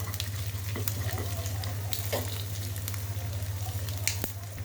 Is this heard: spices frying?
yes